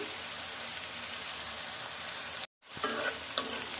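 Rice fries with onion, chili, oil and salt in a pan, giving a loud continuous sizzle close up with stirring scrapes, a brief dropout, then the frying resumes, no talking.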